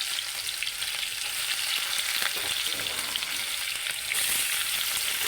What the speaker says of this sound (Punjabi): ਇਹਦੇ ਵਿੱਚ ਜੀਰਾ ਆਪਾਂ ਜੀਰਾ ਪਾ ਲੇ ਹੁਣ ਇਹਦੇ ਵਿੱਚ ਪਾਵਾਂਗੇ ਆਪਾਂ ਪਿਆਜ਼